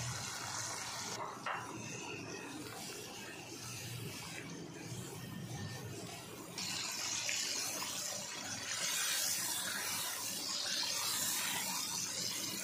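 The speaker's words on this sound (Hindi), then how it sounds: "थोड़ा थोड़ा पानी शामिल करके जो मसाले डाले हैं उनकी बनाई अच्छे तरीके से करेंगे।" Water splashes steadily into a pan of spices for beef korma, a continuous pouring and sizzling wash that swells louder midway and runs throughout with no talk.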